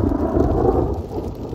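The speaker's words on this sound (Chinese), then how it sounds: "能听到打雷声吗？" Outdoors on a windy day beside a camper car as the weather turns, a low, deep rumble of thunder rolls steadily and fairly loudly for a moment.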